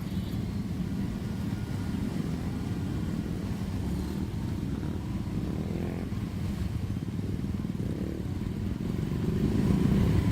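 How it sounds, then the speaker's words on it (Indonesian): Motorcycles push through flood water on a street in Kampung Melayu, East Jakarta, after heavy rain, a continuous close engine drone with splashing clatter that swells louder toward the end. "Sebagian pemotor yang memaksa melintas di tengah banjir mengalami"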